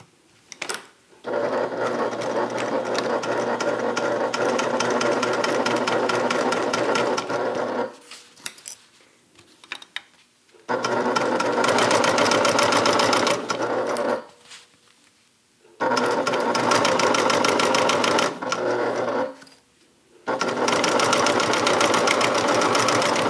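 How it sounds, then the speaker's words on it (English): A sewing machine stitches a Talise bag in three long steady runs of rapid mechanical whirring, close and loud, separated by short pauses with faint handling clicks. "Okay, and then we're going to stitch."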